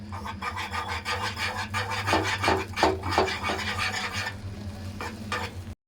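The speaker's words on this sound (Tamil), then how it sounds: "அதை வந்து கொஞ்சமாக அப்படியே கிண்டி விடுங்க" Ground urad dal batter stirred in a pan for a sweet, a steady scraping and rasping of a spoon against the pan bottom in a quick rhythm, close and continuous, with a faint sizzle underneath.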